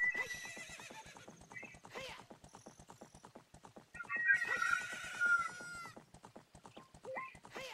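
Epona, the horse from Zelda: Ocarina of Time, gallops with steady, evenly spaced hoofbeats and lets out a couple of loud whinnies, with game music and a few brief sounds mixed in.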